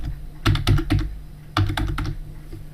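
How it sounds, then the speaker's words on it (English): A computer keyboard is tapped in two quick bursts of keystrokes while a password is entered, close and clear over a steady low hum, with no talking. "Just type your new password in here."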